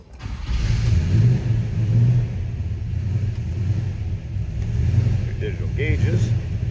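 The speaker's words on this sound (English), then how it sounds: "Let's go ahead and fire this up so you can hear it run" A 1957 Chevrolet 3100 Stepside pickup engine turns over and settles into a steady, loud low rumble that swells and eases a little, with brief higher chirps near the end.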